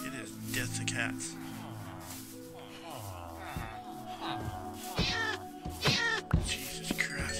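Minecraft cat meowing repeatedly in a game, several clear mews and wavering cries overlapping with a person talking, plus clicks and game noises.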